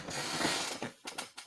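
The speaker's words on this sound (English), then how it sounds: "Creaky chair." A quiet creaking chair gives a drawn-out ratcheting creak, followed by a few short, separate creaks.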